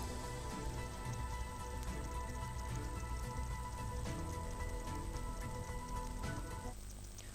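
Heavy downpour in Junagadh's Bhavnath area, a steady dense hiss of rain drumming on surfaces that holds constant and close throughout, easing only slightly in the final moment.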